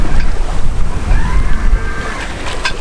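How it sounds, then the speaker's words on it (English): A sailboat runs downwind on the sea, with a steady loud rush of wind and water against the hull, low buffeting and faint creaks close to the microphone. "So we are having a gorgeous sail."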